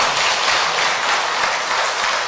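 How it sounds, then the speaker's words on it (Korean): Church congregation applauding a young girl at a rosary prayer evening, a short burst of dense, even clapping filling the space at a steady level. "커다란 박수 부탁드립니다"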